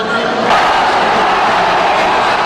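Spectators at a screening of a Manny Pacquiao boxing match inside a sports and fitness center roar and cheer, a loud, continuous, dense crowd din with no breaks.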